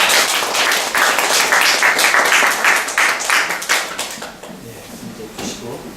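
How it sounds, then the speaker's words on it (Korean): An audience at a church book-talk event applauds warmly for about four seconds, the clapping then thinning out and fading into quiet room sounds. "감사의 박수를."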